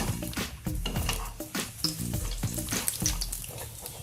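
Semolina pitha fry in hot oil at medium heat while a strainer scrapes and lifts them out. A steady sizzle runs under close metallic clinks and stirring knocks, with no voices.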